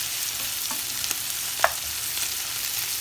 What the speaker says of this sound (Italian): portiamo in ebollizione la nostra panna